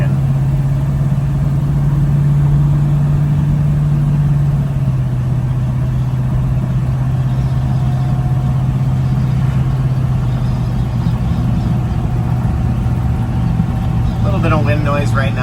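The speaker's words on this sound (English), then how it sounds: "I'm going to shut up and kind of let you listen to the truck" A 1964 Chevy C10 pickup with a carbureted 350 V8 runs at a steady, low engine drone, with faint wind noise from open cab windows and no speech.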